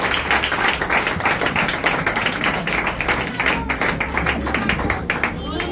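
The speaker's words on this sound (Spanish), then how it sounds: "con un aplauso al ministro." A church congregation applauds a minister in a steady, loud burst of clapping that continues throughout, with some voices mixed in.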